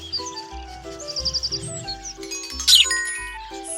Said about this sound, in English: Wrens are tiny birds with brown feathers and a big voice.